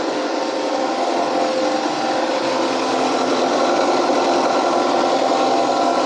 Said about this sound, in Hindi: यहाँ पर शायद मशीन चल रही है नॉइज़ बहुत ज़्यादा है